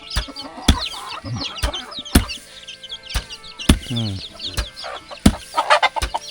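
Chickens clucking in a rural village with no electricity, many birds close by making busy overlapping clucks and calls with a few sharp louder squawks, steady farmyard din throughout.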